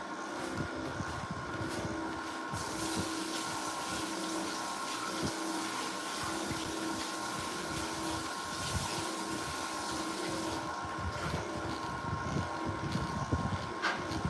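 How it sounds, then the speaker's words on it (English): Running water rinsing out a juicing utensil, a steady close splashing flow with rattling knocks of the utensil under the stream. "I'm just gonna rinse this out"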